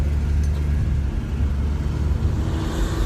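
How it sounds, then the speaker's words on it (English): A 1968 Ford Mustang Coupe with its 200ci inline-six engine drives along, giving a steady, close, low rumbling drone with slight swells of throttle and no voices. "a review with me driving my 1968 Ford Mustang Coupe"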